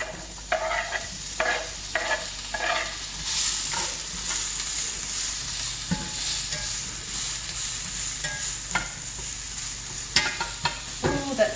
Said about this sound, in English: our skillet is hot. We're just going to cook these for a few minutes.